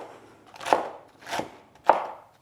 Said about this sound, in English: So I'm just going to cut this up into small